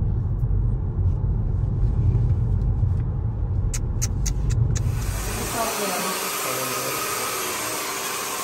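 Car driving on the road, heard from inside the cabin: a steady low engine and tyre rumble that shifts partway through to a brighter, even road hiss, with no talking.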